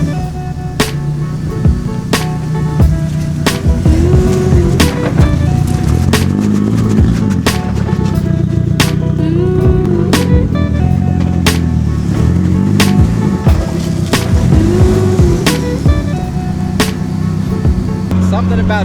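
A Nissan 240SX S14 on BC coilovers drives with a steady engine and road drone. Periodic sharp clicks and knocks break through, and someone talks over it.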